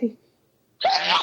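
One loud, sudden human sneeze bursts out close by after a moment of near silence, preceded by a faint breathy intake.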